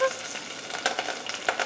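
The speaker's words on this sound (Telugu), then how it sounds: "కరివేపాకు వేస్తున్నా. తుంచి ఇట్లా వేసుకోవాలి. అబ్బో చిట్టుపట్లాడుతున్నాయి." Curry leaves dropped into hot oil crackle and spit up close, a dense frying hiss with sharp pops scattered through, no voices.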